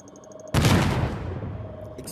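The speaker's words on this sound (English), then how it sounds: "Explosion. Last one." A thermal detonator grenade bursts in the Vader Immortal VR game, one sudden loud boom with a long rumbling decay lasting over a second, alone without talk.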